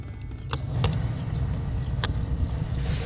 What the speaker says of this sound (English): The little tap and the blower motor's going.